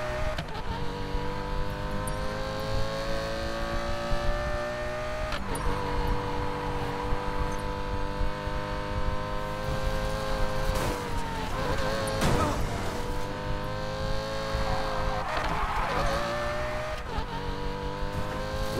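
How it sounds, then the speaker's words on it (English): Race car engine in the Need for Speed Payback video game, revving loud and close and climbing through the gears with tire squeal, a continuous roar that runs the whole stretch. "I love the way this engine sounds,"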